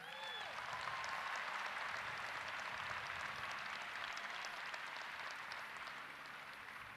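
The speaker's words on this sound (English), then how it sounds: "How about another hand of applause for our soon-to-be graduates?" Sustained audience applause for graduates at a university spring commencement ceremony, broad and steady throughout, heard at a slight distance and filling the space without any talking.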